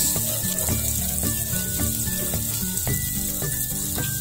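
Onions sautéing with garlic in a pan for cansi, a Bacolod beef dish, with a steady, loud sizzle running throughout and faint clinks of utensils.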